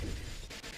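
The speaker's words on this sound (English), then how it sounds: "That was a rocket." A rocket explodes in Halo CE during a Legendary solo run, a short, heavy blast with a deep boom at the start and a crackling broadband tail that stays loud for under a second.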